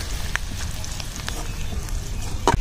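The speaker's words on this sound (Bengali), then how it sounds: "হালকা বাদামি বাদামি হলে তখনকার মিষ্টি কুমড়া দিয়ে সাইডে দেবো তেলের মধ্যে" Pieces of sweet pumpkin fry in hot oil, giving a steady close sizzle and crackle with a few sharper pops.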